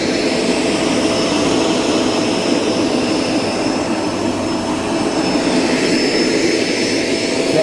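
Kenmore Intuition bagged upright vacuum running steadily, a loud, even rush of exhaust airflow heard up close with a constant whine, no pauses and no voices.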